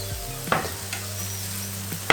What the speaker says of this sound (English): And then you want to fry for about a couple of minutes on each side